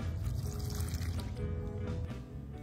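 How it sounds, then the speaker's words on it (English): A cup of hot water is poured into a well in dough ingredients, a close, continuous liquid stream lasting a couple of seconds with no talking. "we're gonna do 1 cup of hot water"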